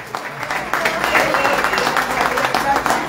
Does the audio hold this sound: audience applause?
yes